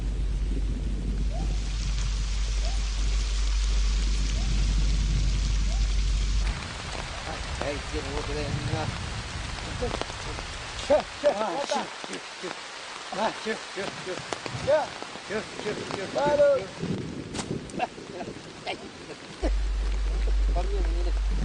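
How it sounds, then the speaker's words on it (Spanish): Heavy rainstorm in the Yasuní jungle of Ecuador, a steady loud downpour that drops away partway through, leaving scattered rustles and voices, before the rain surges back at the end. "la tormenta vuelve a descargar con fuerza"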